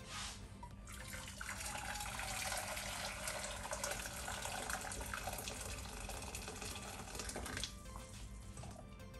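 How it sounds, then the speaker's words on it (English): Boiling hot water pours from a kettle into a pan on a kitchen hob, a steady splashing, gurgling stream lasting several seconds before tapering off. "Here, I'm gonna pour some boiling hot water"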